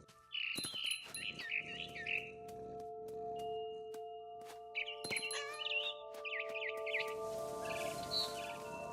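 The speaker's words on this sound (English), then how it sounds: "Then I heard chirping outside my window. It was a barn swallow going back to her nest." A barn swallow chirps in bursts of quick, high twittering notes within an indie video game, heard over a sustained musical drone with occasional bell-like chimes.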